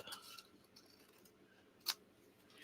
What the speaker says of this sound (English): We're just going to trim off this top.